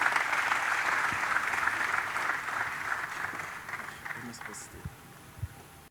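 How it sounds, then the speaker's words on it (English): Applause from a large audience at a cryptocurrency conference, with a dense burst of clapping that starts loud and slowly thins out, and a few separate claps near the end. "Can we put our hands together once again?"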